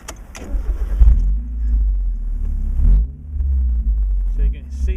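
A 1994 Mazda Miata starting up and pulling away on a test drive, its engine loud and close with revving that rises and eases off, while a person speaks briefly over it.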